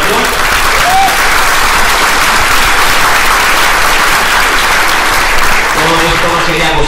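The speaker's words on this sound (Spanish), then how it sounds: "quiero que el primer aplauso sea para vosotros," Audience at an indoor InCruises business event in Lima applauding, dense sustained clapping throughout, loud and close, with some crowd voices and a speaker's voice emerging near the end.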